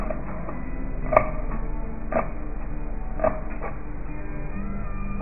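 A knife cuts a celery stalk into chunks on a board, three evenly spaced, moderately loud thuds about a second apart over a faint steady background hum.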